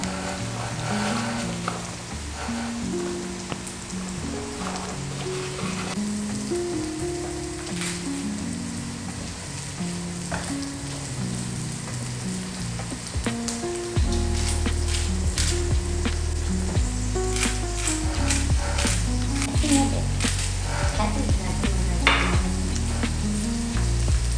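Carrots and green beans stir-fry in a hot pan, a continuous crackling sizzle with scraping and stirring taps, growing louder and denser partway through as more vegetables go in; no one speaks.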